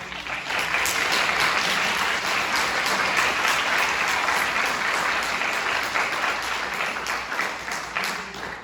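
Audience applause at a mayoral candidate forum, a dense steady burst of clapping from a large crowd that holds loud throughout.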